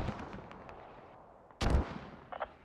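A mortar fires in a military video game, heard as a sharp, booming report about midway through, followed by smaller distant thumps over faint background noise.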